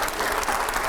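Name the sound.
audience applause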